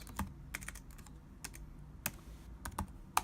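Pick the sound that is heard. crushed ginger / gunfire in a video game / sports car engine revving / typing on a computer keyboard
typing on a computer keyboard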